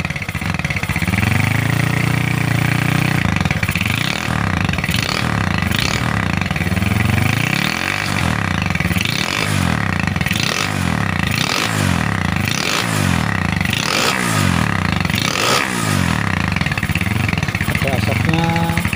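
A motorcycle fitted with an FI-brand aftermarket exhaust idles loudly, then blips its throttle in a series of repeated sharp revs, close to the exhaust, with a voice talking underneath.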